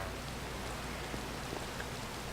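Steady Minecraft rain hisses evenly as a soft, continuous wash of drops with no pauses or other sounds.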